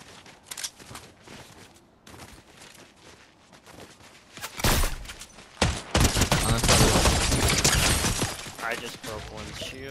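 Loud, rapid bursts of gunfire come from a beam gun fired at close range in a video game, with sharp cracks and shattering hits. Quieter gaps separate the volleys before a dense, sustained barrage.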